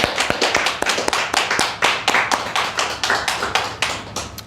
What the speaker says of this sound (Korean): 격려의 박수도 한번 합시다